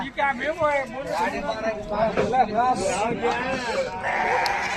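Goats and sheep bleat repeatedly at the Haveri livestock market, wavering cries close by over a background of crowd chatter and talking.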